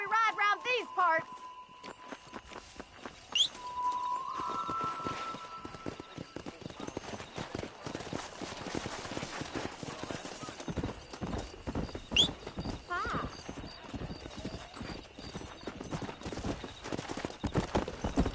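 Horse hooves clip-clopping at a riding pace in Red Dead Redemption, a rapid, steady drumming of close hoofbeats with a whinny near the start and voices in between.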